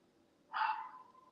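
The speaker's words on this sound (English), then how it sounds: "No barky bark bark" One short, sharp dog bark in a quiet room, a single clear yelp that trails off quickly at moderate distance.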